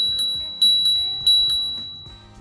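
Bell on a Senada Austin folding ebike, rung several times in quick succession, with bright metallic pings that ring on and fade between strikes, close and clear.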